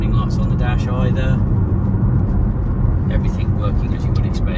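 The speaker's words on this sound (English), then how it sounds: "a peppy, lively, nice sounding little engine as well." A 2017 BMW 116d with a 1.5-litre diesel engine hums steadily and loudly through the drive, a continuous low drone with road noise, while someone talks over it throughout.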